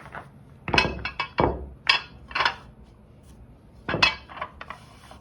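Pool balls tossed into a CNC-machined aluminum triangle rack for a 10-ball rack land with several sharp, close knocks and clacks in irregular bursts, separated by short quiet gaps.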